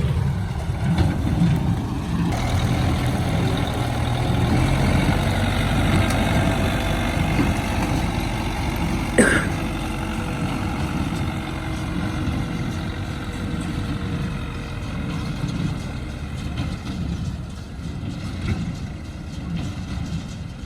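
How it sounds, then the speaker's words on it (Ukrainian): A tractor engine, likely an MTZ-82 or YuMZ-6, rumbles at a field during straw baling, a continuous low drone in the background with a brief knock partway through and no talk. "Трактор на фоне."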